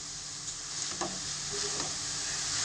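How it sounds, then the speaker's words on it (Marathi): Carrots sautéing in ghee for carrot halwa give a steady soft sizzle with a few light stirring scrapes, close and continuous, with no talking. "परतून घ्यायचं आपल्याला तुपामधनं मस्त गाजर शिजत आले"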